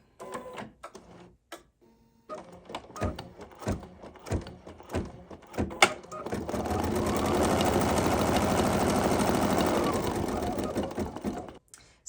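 An embroidery machine stitches a quilt sampler block, a steady continuous mechanical whir running for several seconds after a stretch of scattered handling clicks and thumps.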